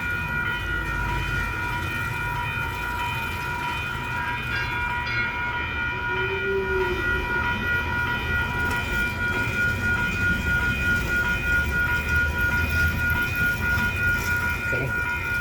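A train rolls steadily past for the whole stretch with a continuous rumble, a sustained high whine and a brief higher tone near the middle, loud and close with no pause.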